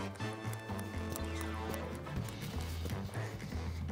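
Hooves of a pony cantering over a jump course thud in a quick, repeated rhythm, close and fairly quiet, mixed with low-pitched tones and some voice in the background.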